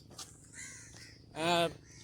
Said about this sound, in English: Too many crows. So many of them.